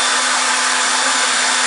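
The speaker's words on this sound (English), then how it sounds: "No, Peggy, you do not have to use the hairdryer" A hair dryer dries fresh paint at a paint night session, blowing with a loud, steady whooshing hiss and a constant motor hum, close and uninterrupted.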